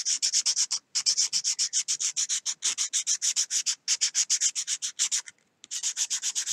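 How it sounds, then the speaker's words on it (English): A wooden fishing lure is hand sanded with flexible sanding cloth, giving fast, even back-and-forth rubbing strokes, close and crisp, with a couple of brief pauses. "The sanding cloth is so flexible."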